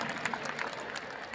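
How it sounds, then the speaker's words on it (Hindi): Audience applause at a large youth festival in India, a steady dense wash of many hands clapping at moderate distance, fairly quiet and continuous for the whole moment with no speech over it. "जब तक मेरी आवाज ना रुके तब तक आपकी तालियां रुकनी नहीं चाहिए"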